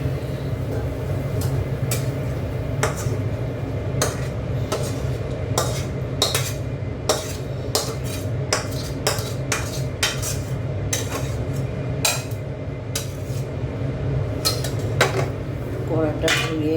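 Cooked chorchori, a Bengali vegetable dish, is tipped out of a pan with repeated sharp metal scrapes and clinks of a utensil against the cookware, close and rhythmic over a low kitchen hum.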